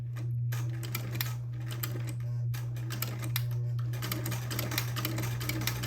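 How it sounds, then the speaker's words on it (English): A sewing machine with a buttonholer attachment stitches fabric, giving a steady motor hum under a rapid, even run of close mechanical ticks. "start sewing"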